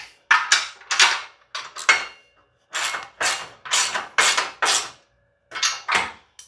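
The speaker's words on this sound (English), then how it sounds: "Okay, that's hella loud, so I'm switching to hand tools." Ratchet hand tools tightening bolts on a subframe mock-up for an LS engine and Tremec TKX transmission, heard as a dozen quick clicking bursts in an uneven rhythm, close and crisp with no talk.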